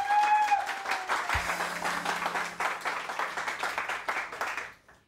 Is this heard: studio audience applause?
yes